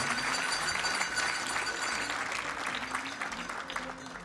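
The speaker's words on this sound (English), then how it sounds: "Give a big round of applause." Audience applause at a men's 10m air rifle final at the European Championships in Wroclaw, Poland: steady, dense clapping from a crowd, sustained throughout and slowly fading toward the end.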